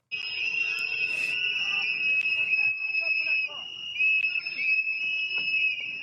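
A shrill whistle blows continuously and loudly with overlapping tones, while voices murmur underneath.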